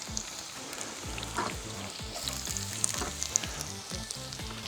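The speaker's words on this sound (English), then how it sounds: "I'm just going to put the onion in to that mixture" Chopped onion sizzling in melted butter and oil, a soft, fairly quiet crackle with scattered pops and faint rhythmic knocking underneath, no speech.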